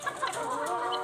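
A fancy chicken gives a brief burst of short clucks, close and fairly clear, lasting about a second with no talk.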